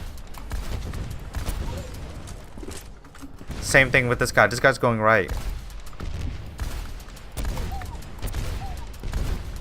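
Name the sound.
gunshots while aiming at enemies in a video game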